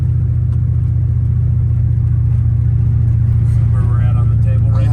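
A car on its first drive running Megasquirt engine management, its engine holding a loud steady low drone that rises slightly toward the end, heard close from inside the car.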